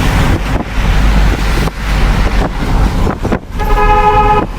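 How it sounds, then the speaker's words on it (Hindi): Dense road traffic at a crowded spot near an old tunnel, with loud car horns tooting repeatedly over engine rumble and wind noise, ending in a long sustained horn blast. "गाड़ी का तो भीड़ हो गई भाई एकदम।"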